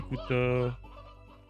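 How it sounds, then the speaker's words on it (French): Chickens cluck in the video game Slime Rancher, one loud, close, drawn-out squawk followed by fainter clucking, with a brief spoken word over it. "Par contre, là, les poulets, ils me stressent"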